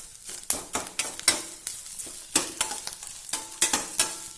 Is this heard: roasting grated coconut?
yes